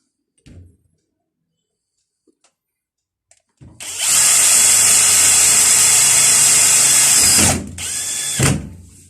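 An electric drill drives screws while fitting an electric lock to an aluminium door, whirring loudly and steadily for a few seconds, pausing briefly, then running again in a shorter burst, after a few faint taps.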